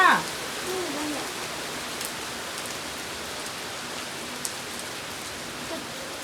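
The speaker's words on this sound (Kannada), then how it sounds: "ನೋಡಿ ಎಷ್ಟು ಜೋರು ಮಳೆ ಬರ್ತಾ ಇದೆ" Steady heavy rain pours down as a dense, even hiss, with a brief faint sound near the start.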